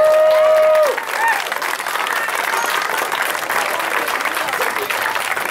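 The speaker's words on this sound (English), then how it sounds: "big round of applause for all 3 of the teams" A crowd at a Little League all-stars rally gives loud, sustained applause for three teams, clapping continuing steadily after a brief opening tone.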